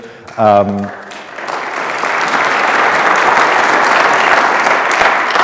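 After a short spoken phrase, an audience at an evening faith and science lecture breaks into sustained, loud applause that builds and holds steady to the end.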